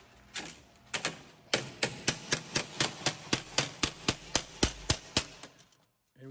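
Hammer blows forming a wire edge into a metal door skin: a close, sharp series of about sixteen metallic strikes in a quick, steady rhythm after a few tentative taps, each ringing briefly before the next.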